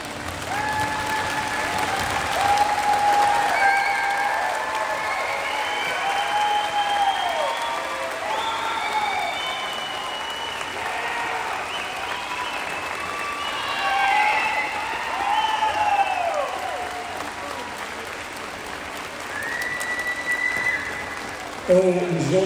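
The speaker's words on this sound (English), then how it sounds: "clap your hand for her" A crowd at a 2022 high school graduation ceremony applauds a student in a wheelchair with sustained, steady clapping and faint cheering. Whistles and voices rise through the clapping before it fades near the end.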